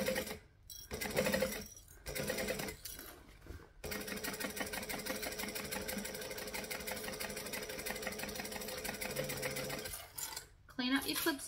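A sewing machine stitches slowly over thick parts of a bag, giving a steady, close mechanical whirring hum in several runs separated by short pauses.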